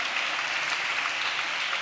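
Loud, sustained clapping from a church congregation fills the space evenly, a thick continuous roar of many hands with no voices on top.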